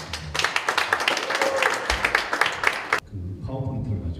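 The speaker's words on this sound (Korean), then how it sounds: "박수로 강사님을 모시겠습니다." Applause from a prayer meeting crowd welcoming a guest lecturer, dense clapping filling the first three seconds, then dropping off abruptly into quieter room noise.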